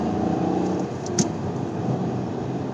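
A Hyundai i20 turbo petrol with a 120 PS engine and clutchless iMT manual gearbox pulls hard on an open road, a steady engine drone and road rumble heard from inside the cabin, with one brief click partway through.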